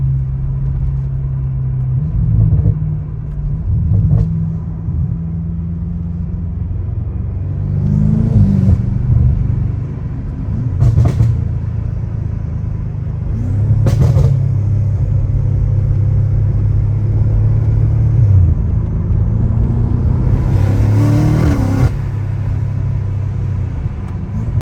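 An 850hp BMW M5 rolls through city traffic, its engine a steady low rumble with a few brief swells of throttle and passing road noise, up close and without voices.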